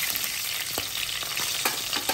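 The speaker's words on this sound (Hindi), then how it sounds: "1/4 टीस्पून कलौंजी। हल्का सा फ्राई कर लें।" Fenugreek and nigella seeds fry in hot oil with a close, steady sizzle. Faint clicks of stirring sound over it at irregular moments.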